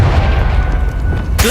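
A Confringo fire blast from the Hogwarts Legacy video game fills the short moment with a loud, heavy boom and a dense roar, closing on a quick bright burst.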